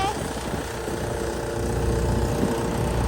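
A tractor engine runs steadily nearby in a field during chickpea sowing, a low chugging rumble with constant vibration that holds throughout.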